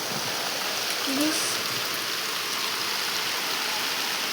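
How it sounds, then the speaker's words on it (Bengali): Heavy rain pours down outside in a continuous, uniform wash of hiss that stays fairly close, with a faint brief sound rising at about one second. "অলরেডি কিন্তু দেখো যে অঝরে বৃষ্টি পড়ছে"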